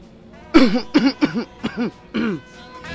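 A series of harsh coughs from one person, about five or six bursts in quick succession, close and fairly loud, then a brief pause.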